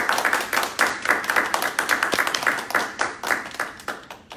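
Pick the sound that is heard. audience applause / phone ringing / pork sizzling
audience applause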